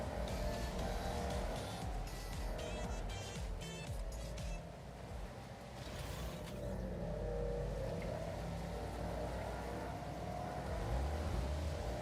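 Porsche car engine from an advertisement playing fairly faint in the background, a rumbling motor with rising revs and a brief tire squeal, partly masked by other sound.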